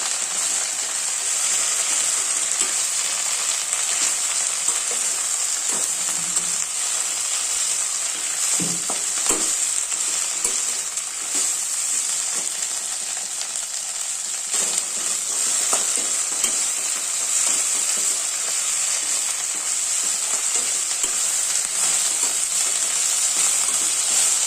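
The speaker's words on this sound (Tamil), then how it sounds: "இப்போ நம்ம வந்து எண்ணெயில் கருவேப்பிலை, மல்லி இலை, புதினா 3 போட்டு வதக்கிக்கலாம்" Curry leaves, coriander and mint sauté steadily in hot oil, a continuous close sizzle with occasional stirring scrapes throughout, no voices.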